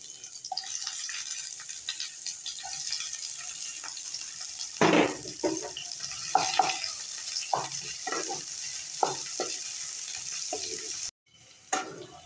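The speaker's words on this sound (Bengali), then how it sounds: "তেল গরম হয়ে গেছে, পেঁয়াজগুলো এর মধ্যে দিয়ে দিলাম।" Onions sizzle and crackle in hot white oil in a pan, a steady bright frying hiss with intermittent stirring scrapes and clatters, close and alone without talk.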